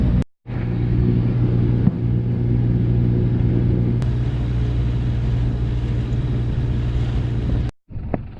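A sailboat's inboard engine drones steadily while the boat motors along, a loud, close, even rumble with a low hum that runs unbroken for several seconds before cutting off briefly at the end.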